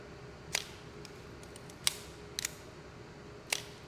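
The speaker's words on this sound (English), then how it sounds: "That shutter still works, which is incredible" A forty-year-old camera shutter snaps several times, four or five crisp, brief clicks spaced irregularly over a faint room hiss, close and fairly quiet.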